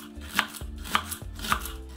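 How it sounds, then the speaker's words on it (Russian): Knife chopping cabbage on a board, three crisp evenly spaced cuts about half a second apart, close-up and alone over a low background hum. "Капусту нарежем не очень крупно."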